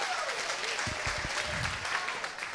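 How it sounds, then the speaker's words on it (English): A church congregation claps together during a sermon, a short burst of applause from the crowd beneath a noisy, reverberant room. "Clap to the Lord if you're ready for your season to shift."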